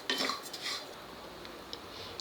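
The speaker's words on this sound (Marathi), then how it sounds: "एकीकडे आपण असे जिरे पण हलवायचे, कढईत गरम कढईत ठेवलेले" Cumin seeds stirred in a hot kadhai with the gas switched off, a spoon scraping and clinking against the metal in a brief burst, then quieter light scrapes, soft and close with no talk.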